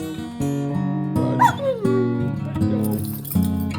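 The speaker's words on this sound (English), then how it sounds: "That dog." A dog gives a run of short barks broken by high whimpers and yips, close and fairly loud, with a low steady hum running underneath.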